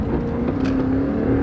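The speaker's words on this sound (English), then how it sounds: "There goes that V8 engine" V8 engine of a pickup truck accelerating from a stop, a steady close rumbling drone with a faint rising whine as the gas is applied, heard from inside the cab without speech.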